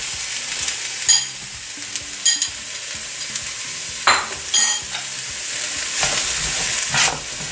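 Garlic, chili, ginger and onions frying in a pan while being stirred, a steady close sizzle broken by several sharp scraping strokes of the utensil against the pan.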